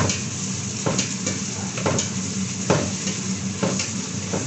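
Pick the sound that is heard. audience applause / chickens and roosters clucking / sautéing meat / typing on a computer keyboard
sautéing meat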